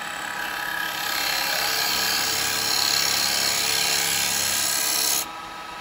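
Bowl being turned on a wood lathe with a carbide chisel, a steady close scraping hiss of wood being cut that swells, then stops abruptly near the end, with no talking.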